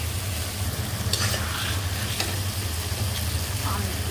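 Spice paste being fried and stirred in a pan for a thin fish curry of koi fish with potatoes, a steady low sizzle and rumble with scraping stir strokes at intervals, close and continuous.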